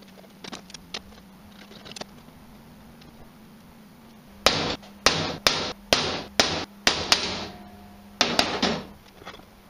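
Sharp metallic strikes in a quick series, about eight hard center-punch taps on metal close up, each ringing briefly, after a quieter stretch of light tapping and handling.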